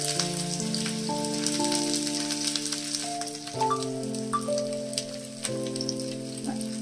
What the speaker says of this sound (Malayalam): കടുക് പൊട്ടിയതിന് ശേഷം നമുക്ക് കുറച്ച് ഉള്ളി കൂടി ഇട്ട് കൊടുക്കാം